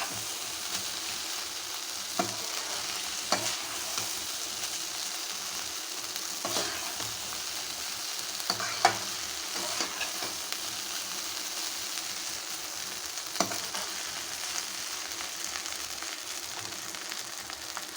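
Continuous frying hiss with occasional scrapes and taps as a spatula stirs beef fried rice in a hot pan, fairly close.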